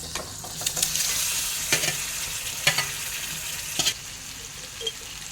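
Raw mango curry with jaggery sizzles in a pan while a spoon stirs it, giving a steady frying hiss broken by soft scraping knocks, close and fairly quiet, with no talking.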